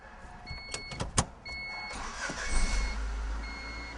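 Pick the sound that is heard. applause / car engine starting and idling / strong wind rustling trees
car engine starting and idling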